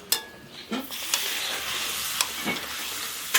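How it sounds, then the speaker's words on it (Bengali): Papad fries in hot oil during a village Bengali New Year cooking, a steady sizzle broken by sharp scraping and stirring clicks at intervals. "তিন থেকে চার সেকেন্ড করে লাগছে তো পাপড় ভাজা হতে"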